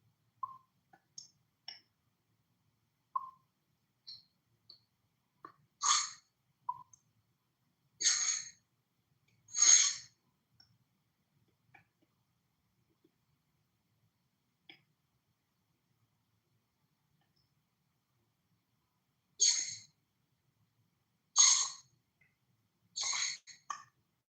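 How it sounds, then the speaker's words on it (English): Bursts of clicking keystrokes typed on a computer keyboard, several short clusters of taps separated by quiet gaps, close and fairly faint, with no talk. "I was typing a question."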